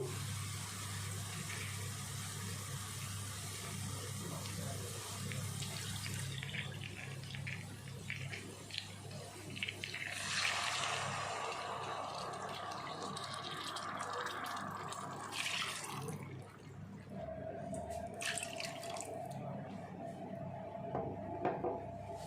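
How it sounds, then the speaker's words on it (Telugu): Water, three cups, pours into a pot in bursts, splashing and gurgling against metal, with some clinking and a steady background hum. "దీంతో 3 కప్పులు వాటర్ పోసుకోవాలి"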